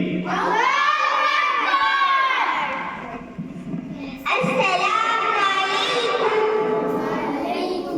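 A crowd of schoolchildren at an Islamic Nurani madrasa loudly shouts a response to a Nara-e-Takbir chant in two long, ringing bursts, the second starting abruptly after a brief dip.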